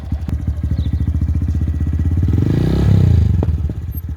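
A motorcycle engine chugs in quick, even pulses, then swells into a louder rev as the bike rolls up a ramp into a truck bed. The sound is close and loud.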